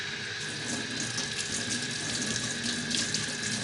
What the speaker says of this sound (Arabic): هنبتدي بقى نغسلها ازاي